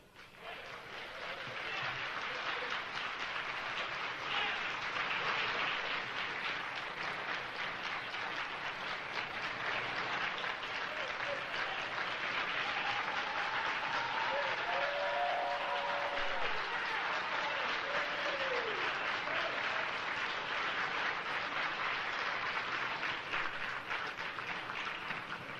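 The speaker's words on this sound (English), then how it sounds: "I want everybody to give her a round of applause." An audience at a political organizing speech gives a sustained round of applause for a guest's mother, a steady, distant roar of clapping lasting about twenty-five seconds, fairly quiet overall with no clear talk on top.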